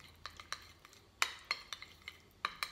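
Oil, tomato paste and garlic are stirred into a thick paste, a spoon tapping and clicking against the container in an irregular series of sharp, close strikes over a quiet background, with no talk.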